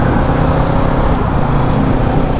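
A 2023 Kawasaki Ninja 650 motorcycle ridden on the road, with a loud, steady engine and road roar masked by heavy wind rush throughout.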